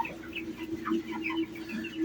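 Young chickens housed in a pen cluck and cheep continuously at close range, making a busy flock chatter with no talking.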